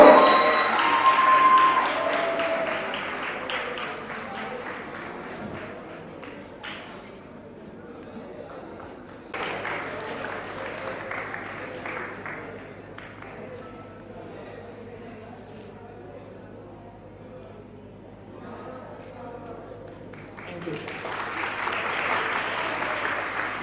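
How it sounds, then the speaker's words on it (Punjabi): An audience applauds at a school's annual prize distribution ceremony as a student is honoured, with a steady wash of clapping that dips midway and swells again at the end, with someone speaking over it at first. "ਤਾੜੀਆਂ ਰੁਕਣੀਆਂ ਨਹੀਂ ਚਾਹੀਦੀਆਂ"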